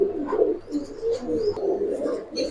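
Giribaz racing pigeons coo inside a loft, overlapping low warbling calls heard close, with a few light higher chirps and a steady background hum.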